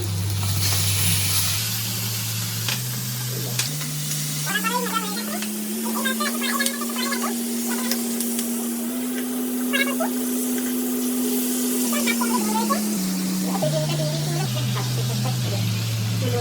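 Katla fish fries in a pan with a little egg, giving a steady, hissing sizzle throughout. A voice talks over it, and a droning tone slowly rises and falls in pitch underneath.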